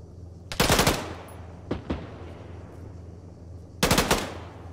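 Gunfire in a ShackTac military game comes as two loud automatic bursts with a couple of single shots between them, against a low background rumble.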